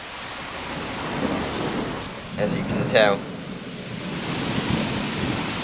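Thunderstorm heard from an open window: steady rain hissing throughout with rolling thunder rumbling low and moderately loud, while a person speaks briefly over it midway.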